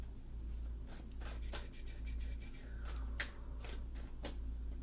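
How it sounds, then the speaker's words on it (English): Tarot cards from an Ethereal Visions deck being drawn and shuffled, soft papery slides and flicks coming in short bursts over a steady low hum, with no voices. "I will draw 3 cards from my Ethereal Visions Tarot in response to the reading from the universe"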